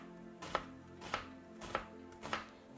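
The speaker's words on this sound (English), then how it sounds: "I'm gonna just use half of it, and I'm just roughly chopping it just like so." A knife roughly chopping half an onion on a cutting board, four steady thuds about 0.6 seconds apart, close and clear with no talking.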